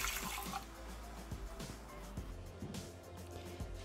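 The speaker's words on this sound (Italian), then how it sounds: "Mettiamo nel boccale il latte." Milk poured into a Thermomix TM6 mixing bowl while preparing a cream for a cake, giving a short, steady liquid splash with some faint clinks.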